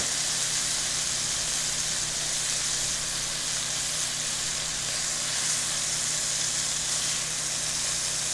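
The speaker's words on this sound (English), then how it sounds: "that's what you want to hear when you put that steak in that pan" Steaks searing in a hot pan, a steady, loud hissing sizzle that fills the span without break.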